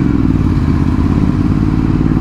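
Ducati Hypermotard 796 motorcycle engine revving hard up close, a loud, continuous, throbbing rumble with a slight clattering edge and no talking.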